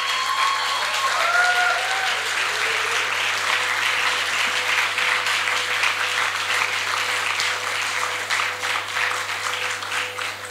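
Strong, continuous applause from a theatre audience at a Hungarian student drama festival as a group leader is called to the stage, many hands clapping in a dense, even roar, with brief whistle-like tones early on.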